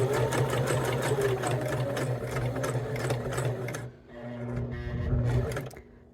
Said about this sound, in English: So we're going to sew till we get to that point.